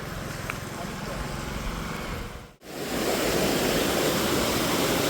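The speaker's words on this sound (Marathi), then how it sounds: "नदीला आले बऱ्यापैकी पाणी." A Konkan river runs high after the first monsoon rain, making a steady, loud, broadband rush. There is a brief dropout midway, after which the flow returns slightly louder.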